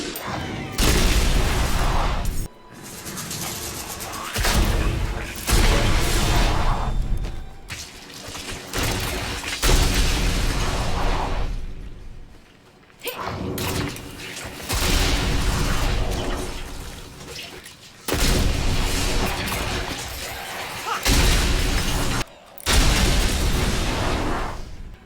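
In Diablo 4, a Rogue fires a crossbow Penetrating Shot build over and over. Loud booming, shattering blasts come in bursts separated by short gaps, and a voice speaks faintly under them.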